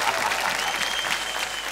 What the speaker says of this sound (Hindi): मेरे लिए तालियां